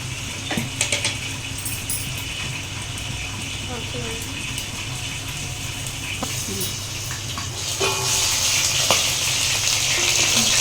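Oil sputters and crackles in a pan while frying ingredients for a tomato and green chilli chutney. The hissing grows denser toward the end, with a voice at times.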